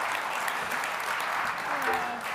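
Church congregation clapping during worship, a dense wash of hand claps throughout, with a faint voice or tone emerging near the end.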